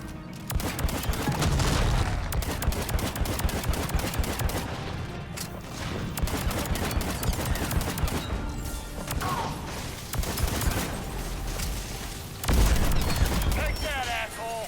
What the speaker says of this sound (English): Lay down heavy fire!